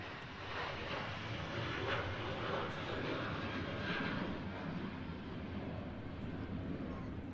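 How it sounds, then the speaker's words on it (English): A Ryanair airliner takes off and climbs out of Manchester Airport, heard as a broad, steady jet roar at moderate distance with wind noise and no talk. "Here goes the Ryanair."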